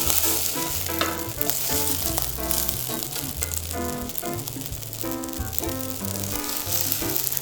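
Yakisoba noodles pan-fry over a direct flame in a Sichuan restaurant kitchen, a steady close sizzle holding for several seconds without a break, with no voices.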